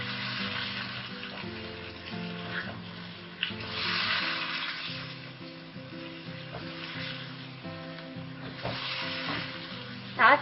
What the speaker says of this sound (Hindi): सारे स्पाइसेस ऐड करने के बाद हम इसे अच्छी तरीके से मिक्स कर लेंगे।